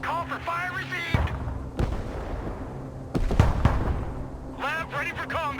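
Artillery fire in the military strategy game Broken Arrow, several heavy booming blasts spread across a few seconds with rumbling tails, loud and close, while radio-style voices talk between shots.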